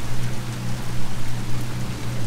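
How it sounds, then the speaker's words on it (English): Heavy rain pouring onto a Yamaha 222 FSH boat on the water near Panama City, a loud, dense, continuous hiss of drops with a low rumble beneath, no talking. "it's raining pretty bad right now"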